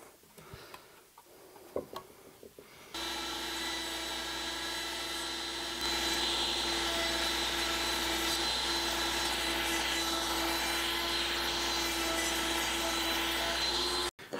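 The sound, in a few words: router cutting wood for an executive desk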